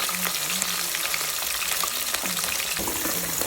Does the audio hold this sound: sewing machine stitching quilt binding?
no